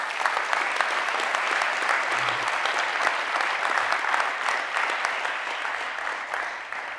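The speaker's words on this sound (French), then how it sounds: "Merci pour cette conclusion que je vous propose d'applaudir" A seated audience at a regional security forum applauds after a closing talk, steady dense clapping filling the hall for the whole stretch without letting up.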